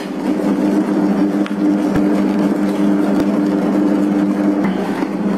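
A dough mixer machine kneads pandan bread dough after the last butter is added, giving a steady, loud mechanical hum with low rhythmic thumps running continuously throughout.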